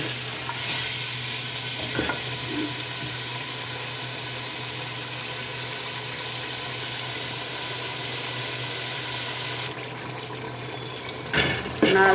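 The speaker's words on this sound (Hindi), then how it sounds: "गोश्त हमारा फ्राई हो चुका है अच्छी तरह" Spiced mutton fries in a pot with a steady sizzle and occasional stirring scrapes, close and continuous, with a faint voice at times and a brief clatter near the end.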